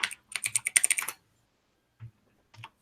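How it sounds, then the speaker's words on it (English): Rapid typing on a computer keyboard placed right next to the microphone, a close, crisp burst of clattering keystrokes followed by silence and then a few isolated key taps. "Stop typing on the mic."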